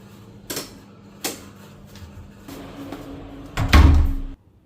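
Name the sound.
door being closed after turning on fan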